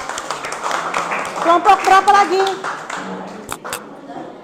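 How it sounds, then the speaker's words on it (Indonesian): Classroom applause for group 2 during a teacher-training session, scattered clapping from a small group of students mixed with talking, a brief question spoken over it. "tepuk tangan buat kelompok 2."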